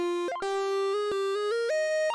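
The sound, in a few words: synth lead sound preset called Arcade Trails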